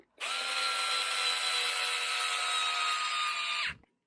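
A cordless power screwdriver whines in one steady, close burst of about three and a half seconds while driving screws during assembly of an Xray XT2 RC car, then stops abruptly.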